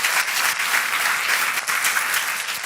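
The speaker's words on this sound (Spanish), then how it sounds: "applause." Church congregation applauding loudly and continuously, a dense wash of clapping from a crowd close by, with no voices over it.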